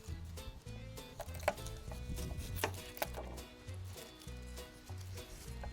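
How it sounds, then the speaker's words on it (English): A knife chops food on a board at a campsite camper van cookout, with rapid, fairly even taps in bursts, kept quiet and close. "chop it up"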